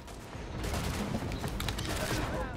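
Gunfire from a sniper rifle in The Division rattles through a busy firefight, dense overlapping shots close by rather than one clean crack.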